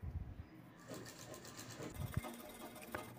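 Home sewing machine stitching along the side of a four-layer quilted travel bag piece made with sponge and main fabric, a steady mid-level running whir that continues throughout.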